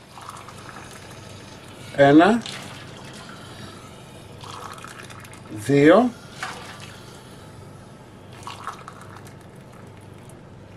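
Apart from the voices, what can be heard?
pouring water into baking pan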